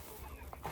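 A backyard chicken clucking faintly, one or two short clucks near the end of a brief, quiet moment.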